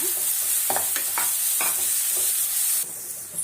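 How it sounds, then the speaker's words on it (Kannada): Chopped onions and garlic fry in a pan with a steady, close sizzle, broken by a few brief scraping stirs of a spatula; no one speaks. "ಈರುಳ್ಳಿ ಸಣ್ಣ ಕಟ್ ಮಾಡ್ಕೊಂಡಿದ್ದೀನಿ ಹಾಕ್ತೀವಿ ಚೆನ್ನಾಗಿ ಫ್ರೈ ಮಾಡ್ಕೊಳ್ಳೋಣ"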